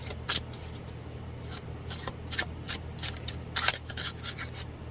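Tarot cards are shuffled close by, a rapid run of soft riffling and sliding strokes in quick bursts over a faint low hum, with no talking.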